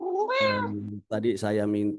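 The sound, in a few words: cat meowing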